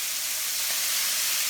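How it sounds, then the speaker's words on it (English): Meatballs steaming in a hot pan right after water is added, a loud, steady broadband hiss that holds without a break, close up and with no voices over it. "now I'm gonna add water to kind of steam them"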